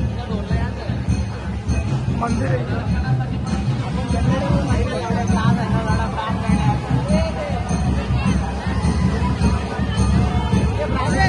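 Crowd at the Ekvira temple on a busy Sunday: a dense, steady hubbub of many voices close around, with scattered clinks, a nearby voice speaking briefly over the din.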